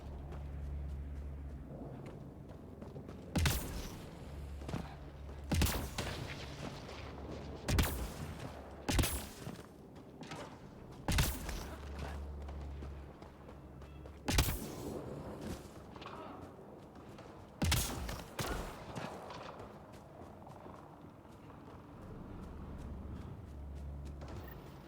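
Gunfire in a firefight in the video game Mass Effect Andromeda: sharp, separate shots ring out every second or two over a low rumbling backdrop, with faint voices mixed in.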